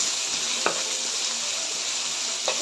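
Onion and garlic frying over fairly high heat in a pan for chicken afritada, a close, continuous sizzle with two brief scraping stirs.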